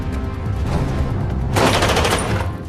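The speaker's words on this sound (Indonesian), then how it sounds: "hingga terjadi lagi tembak-tembakan." Gunfire shootout in an action movie about hunting a mafia arms-dealer boss: a rumbling backdrop of rapid shots, then a dense, loud burst of automatic fire crackling continuously for about a second.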